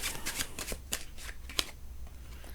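Tarot cards are drawn and handled during a Hindi reading, giving quick close riffling and flicking of card stock in a rapid series of soft snaps and slides, with no talking.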